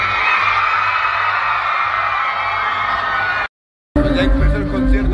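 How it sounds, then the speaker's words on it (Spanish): At a concert at Plaza Condesa in Mexico City, a crowd suddenly erupts in loud, sustained screaming and yelling. After a brief cutout the roar returns heavier and boomier. "Muy tranquilo aquí y de repente los pendejos gritan"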